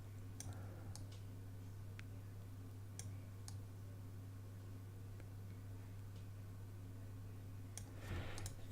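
Scattered sharp clicks from a computer mouse, a few isolated and some close together, sounding faint over a steady low hum, with a brief rustle near the end.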